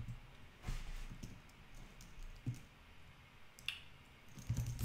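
Soft, irregular keystrokes on a computer keyboard while an advert's call to action is typed, with quiet taps spaced out over a few seconds and a small cluster near the end, faint against room tone.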